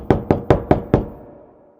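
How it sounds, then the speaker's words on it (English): Five sharp knocks on a wooden door in an animated fairy tale, evenly spaced and close, each with a short ring that fades into a quiet tail after the last. "Thumbelina knocked on the door"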